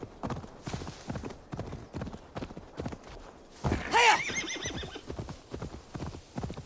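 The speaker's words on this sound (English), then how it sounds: "in this game you can sprint and the horse is so much faster" A horse in the video game Assassin's Creed Valhalla gallops with rapid, rhythmic clip-clop hoofbeats close by, and a loud whinny breaks out partway through.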